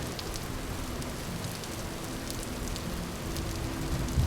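Steady rain in the video game Vintage Story, a continuous even hiss of falling drops pattering on surfaces, with faint scattered droplet ticks and no talk.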